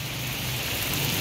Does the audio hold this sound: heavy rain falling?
yes